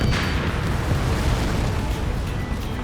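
A missile explodes in the air-combat video game Ace Combat 7, a loud, sustained deep roar that rumbles steadily throughout.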